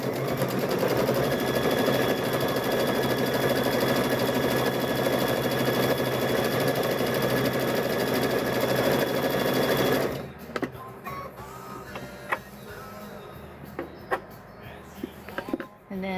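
A sewing machine runs steadily for about ten seconds, stitching a quarter-inch seam across fabric bowl covers, then stops abruptly, leaving quiet room sound with a few soft handling clicks.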